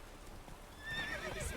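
Roach, a horse in The Witcher 3, gives a short, close whinny over soft hoof clops in a brief in-game moment, with no talk.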